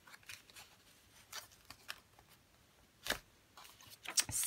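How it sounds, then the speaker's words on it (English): Scissors fussy-cutting paper for a junk journal, giving a few quiet, scattered snips and crisp paper rustles with short gaps between them, close and faint, with no talking. "A little bit of fussy cutting"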